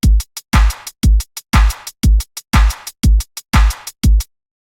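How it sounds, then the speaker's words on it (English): A programmed drum pattern of four layered kick drums in 4/4 time with hi-hat triplets on top gives a shuffled polyrhythm: loud, punchy kicks on each beat with short crisp ticks between, played alone. "we have along the top here is 4 different kick drums. They're playing at a 4/4 time. And then we have some basic hi-hat triplets that are layered on top of that"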